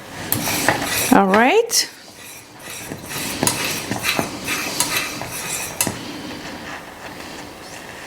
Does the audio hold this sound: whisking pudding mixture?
yes